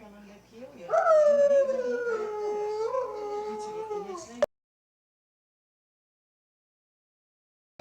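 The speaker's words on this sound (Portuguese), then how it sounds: "O lobo cinzento faz assim." A gray wolf gives one long, wavering howl that rises then slowly falls over several seconds, clear and close, before the sound cuts to silence.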